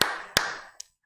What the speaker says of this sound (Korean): 서로에게 박수합시다.